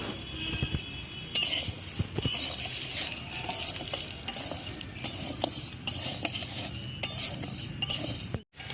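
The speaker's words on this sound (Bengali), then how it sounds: "খালি খোলায় প্রথমে ডালটা ভেজে নেব" Black gram dal dry-roasting in an empty pan, a dry rattling rustle with frequent scrapes and clinks of a spatula stirring the lentils, close and fairly steady, without talk.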